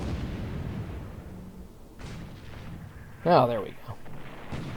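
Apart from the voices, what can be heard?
ship firing guns in War in the Pacific video game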